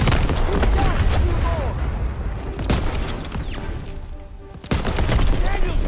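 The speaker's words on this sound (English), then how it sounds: "I'm shooting, Daniels." Dense World War II gunfire in Call of Duty WWII, with rapid overlapping shots and bursts over a constant rumble of battle noise, plus a sharp louder crack near the end.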